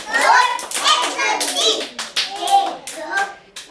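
Children clap their hands in quick, uneven bursts, close and fairly loud, mixed with their own voices calling out and chattering over the clapping.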